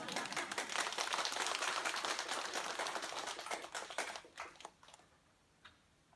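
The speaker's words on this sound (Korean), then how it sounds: "이럴 때 박수 치는 거예요." An audience at a diabetes lecture in Incheon claps in a dense burst of many hands that thins out into scattered claps and fades away after a few seconds.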